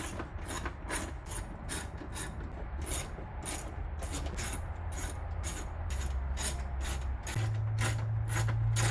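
A ratchet clicks in quick repeated bursts while backing off 10 mm nuts on the light bar of a Saab 9-4x, close and clear with no talking.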